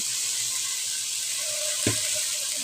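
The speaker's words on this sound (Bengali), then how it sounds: "বেগুনও কেটে নিয়েছি মশলাটা কষিয়ে নিচ্ছি" Spice paste with cut eggplant sizzles steadily in a pan for a raw fish curry, a constant close frying hiss with a brief louder stir or splash near the end.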